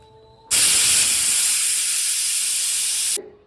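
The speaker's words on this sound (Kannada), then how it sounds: "ಇವಾಗ ಮುಚ್ಚಳ ಮುಚ್ಚಿ 3 ವಿಷಲ್ ಕೂಗೋವರೆಗೂ ಕಾಯೋಣ" A pressure cooker holding a village-style black-eyed pea and brinjal curry lets off one loud, close burst of hissing steam, starting abruptly and running steadily for under three seconds before cutting off, with no talking.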